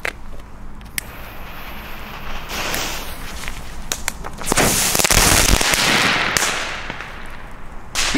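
New Year's Eve fireworks and firecrackers going off outdoors: sharp cracks and bangs at irregular intervals, building into a dense, loud crackling barrage in the second half with heavy rumbling booms.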